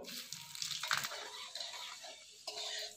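Bay leaf, dry red chillies and five-spice seeds frying in hot oil for a fish curry, a steady broad sizzle with brief louder bursts as the spices hit the pan.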